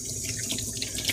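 Tap water runs steadily from a faucet for lapping sharpening stones, a continuous close hiss of flowing water into a sink with no talk over it.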